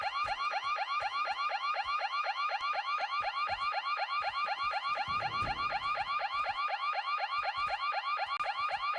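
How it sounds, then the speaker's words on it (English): A car alarm blares in the video game PUBG, a loud, steady, rapidly repeating electronic whoop that runs without a break, with faint footsteps and movement underneath. "Did not expect to set an alarm off."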